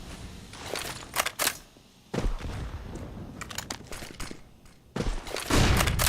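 Gunfire sprays from a competitive first-person shooter match, fast bursts of sharp cracking shots in several clusters, separated by quieter gaps of ambient game noise.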